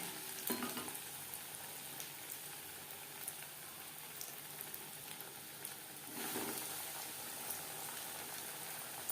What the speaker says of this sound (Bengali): ভাজবার জন্য বেশ খানিকটা রিফাইন্ড অয়েল গরম করে নিয়েছি